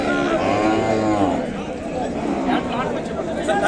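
Calves at the Kodad cattle market moo loudly and close by, one long drawn-out call followed by more lowing amid crowd murmur and someone talking.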